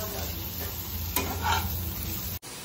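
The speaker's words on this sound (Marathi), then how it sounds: "आता यात 2 मिनिटं टोमॅटो टाकून ते पण परतून घेऊ" Tomatoes sauté in a Khandeshi-style chicken masala, a constant close sizzle with a spatula scraping and stirring through the pan, then a brief cut near the end before the frying resumes.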